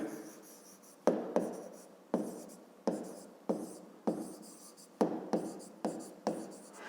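Pen or pencil writing by hand during a fifth-grade maths lesson, a close series of about ten crisp scratchy strokes, each starting with a sharp attack and fading, in a steady uneven rhythm with no talking.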